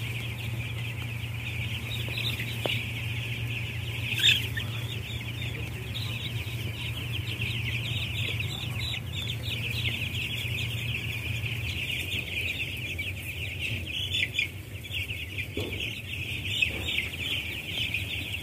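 Broiler chickens cluck and murmur steadily in a crowded closed-house coop at night, a continuous low chorus with an occasional louder squawk, under a constant background hum.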